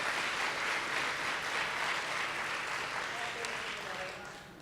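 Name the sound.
audience applause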